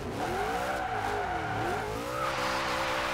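A drag-built Dodge Charger with a roll cage drifts in Forza Horizon 2, its tires squealing in long wavering pitched howls over a loud, continuous engine drone, with no one talking.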